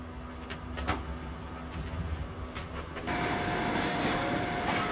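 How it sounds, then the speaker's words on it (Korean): A sleeper train rumbles and clatters as it begins moving, with a steady mechanical hum that swells louder partway through; no talking. "서서히 열차는 출발하고"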